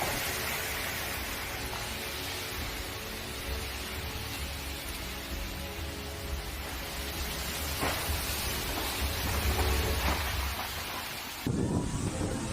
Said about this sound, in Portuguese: Neste panorama, veremos como as fortes chuvas causam estragos na região.